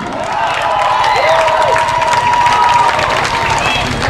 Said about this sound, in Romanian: vă rog să-l aplaudați pentru efortul depus în seara asta